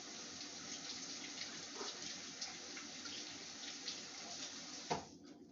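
Carrots being rinsed under a running kitchen tap, a steady broadband rush of water that holds for the whole stretch, with a brief sharp knock near the end as the flow cuts off.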